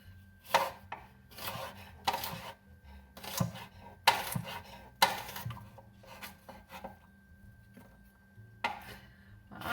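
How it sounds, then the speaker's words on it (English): A knife slicing an onion on a board, sharp rhythmic chopping strokes in uneven bursts, close and clear with short pauses between runs of cuts. "Onion sliced. Okay, so I've got my sliced onion"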